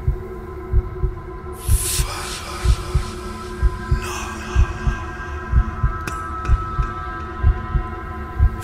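Heartbeat sound effect in a Swedish audio drama: a steady, deep, muffled double thump repeating about once a second under a low hum, with a few brief swishing noises mixed in.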